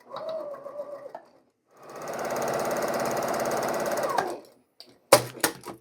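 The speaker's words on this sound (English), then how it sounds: "I'm going to stitch on one side of all of these setups first." A sewing machine stitches quilt squares in one steady run of about two seconds, close and clear, after a brief whirring start. A few sharp clicks and clatters follow.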